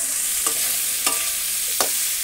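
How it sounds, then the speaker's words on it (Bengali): Crabs for a kosha crab curry sizzle steadily in a hot pan in a village kitchen, with a few sharp stirring scrapes standing out over the continuous frying hiss, with no voices. "দিলাম কাঁকড়াগুলো ঢেলে দিলাম। দেখো কষানো হবে।"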